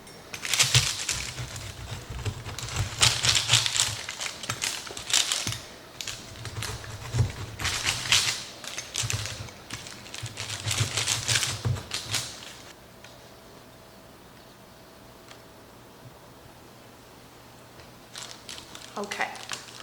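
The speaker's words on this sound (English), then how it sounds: "So let's cut into these pizzas." Homemade pizzas with a homemade crust are cut, giving a run of loud, crunchy, rhythmic bursts for about twelve seconds before a quieter stretch with a few faint sounds at the end.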